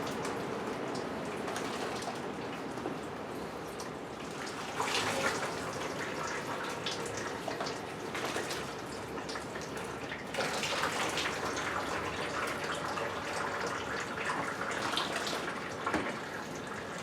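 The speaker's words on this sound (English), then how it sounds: "you can see if you listen, you hear it pouring through." Bourbon mash liquid pours and drains through into a fermenter, a continuous soft trickling and splashing with a few brighter surges, heard close and fairly quiet.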